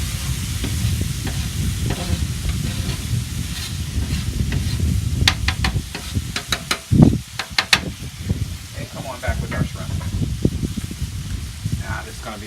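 Vegetables with oil sizzle on a Santa Maria grill as they are pushed aside, with scraping, stirring strokes over a steady fry, close up, and a voice talking over part of it.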